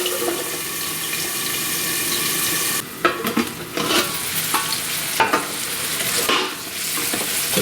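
Vegetables sizzling and softening in oil in a pan under a covering plate while cucumber chutney is made, with a steady frying hiss and a few soft clatters and stirs partway through.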